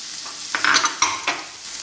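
Garlic paste added to a hot pan for a dal and vegetable dish, a soft hiss and sizzle with a few scraping stirs of a spoon, close and alone.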